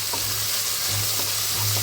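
Tomatoes frying in a pan with crushed ginger and garlic for vegetable nonbu kanji: a steady, close sizzle with soft stirring scrapes throughout, no voices.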